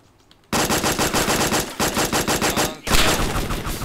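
Loud, rapid bursts of automatic gunfire in the video game DayZ start abruptly after a brief quiet moment, continuing in rattling volleys with a short gap, close and dense.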